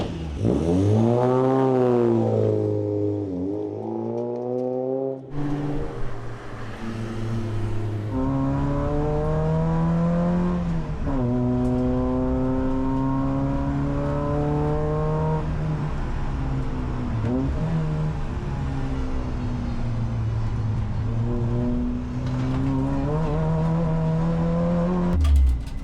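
A Peugeot 405 Mi16 BTCC replica race car accelerates hard on a circuit, its engine climbing through the revs, dropping at gear changes and pulling again. The sound is loud, close and steady, and no one speaks.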